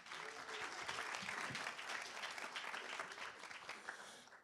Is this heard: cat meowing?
no